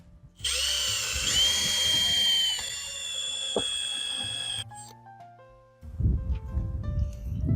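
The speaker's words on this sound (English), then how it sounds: "pre-drill the holes that are going to go from this connector into the corn house" A power drill pre-drills holes through a pallet connector into a wooden corn house at an allotment, a loud whining run of about four seconds that winds down, followed by a pause and then rustling handling noise nearby.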